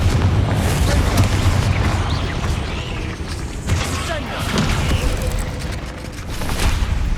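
Explosive Confringo spell blasts and other spell effects booming in Hogwarts Legacy on PS5 during a fight with a spider, loud rumbling bursts repeating over several seconds, with a voice calling out amid the noise.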